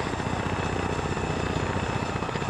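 A helicopter in a military video game set during a prison rescue operation, its rotor thumping in a steady, dense rhythm that stays loud and close throughout, with no talking.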